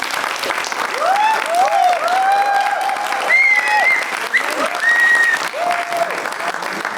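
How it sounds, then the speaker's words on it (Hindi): Theatre audience applauding after a Hindi play: dense, sustained clapping throughout, with a few shrill tonal cries or whistles rising over it. "और जोरदार तालियां होनी चाहिए हमारी ऑडियंस के लिए प्लीज"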